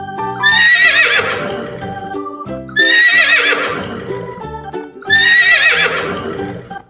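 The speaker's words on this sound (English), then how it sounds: "Can you neigh like a horse?" A horse neighs three times in a row, loud and close, each whinny a long, shaky, descending call with short pauses between.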